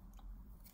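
A dog gnawing on a door gives faint, close biting and scraping crunches in a short burst over low background hum.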